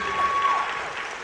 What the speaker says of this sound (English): one more big round of applause for our St. Martin seniors